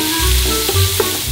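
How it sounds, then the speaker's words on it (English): Onions for beef stroganoff sizzle and crackle in a hot pan, a close, continuous frying hiss with small pops. "I'm frying the onions first for stroganoff."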